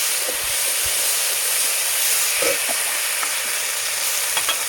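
White mustard paste frying in a pan for a fish and mango sour curry gives a steady, loud sizzle with a hissy, steamy texture and a few faint clinks of stirring, with no talking.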